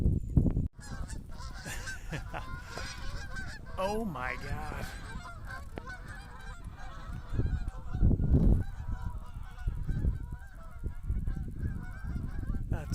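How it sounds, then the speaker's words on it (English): A large flock of geese honks continuously in the open countryside, a dense overlapping chorus that swells and fades, with a person briefly exclaiming over it. "That's a lot of geese."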